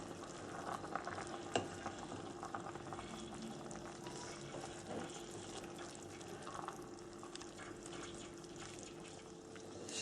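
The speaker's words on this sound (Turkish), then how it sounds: "Biz de bu arada artık ilk defa yemeğimizi karıştıralım." A tomato stew bubbles and sizzles quietly in a pot while it is stirred, a faint, continuous simmering texture with small scrapes and no voices.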